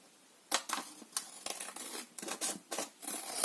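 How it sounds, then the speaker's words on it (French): Scissors snip through paper for a handmade book tag. About eight quick, crisp cuts come close up in an uneven rhythm, with no talking. "je vais juste les couper"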